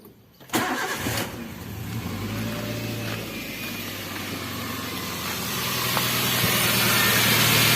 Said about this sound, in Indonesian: Sudah diisi penuh, tinggal dihidupin mesinnya.